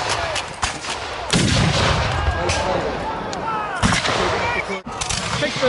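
Musket volleys at a Revolutionary War reenactment, sharp loud cracks ringing out in bursts with echoing tails amid shouted commands and nearby voices.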